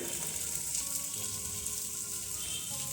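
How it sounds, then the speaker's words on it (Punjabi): Onion and tomato masala sizzling as it fries in a pan, a steady close hiss and crackle with no pause and no voices. "ਹੁਣ ਆਪਾਂ ਇਹਨੂੰ ਚੰਗੀ ਤਰ੍ਹਾਂ ਪੱਕਣ ਦੇਵਾਂਗੇ ਪਿਆਜ਼ਾਂ ਨੂੰ ਮਸਾਲੇ ਨੂੰ"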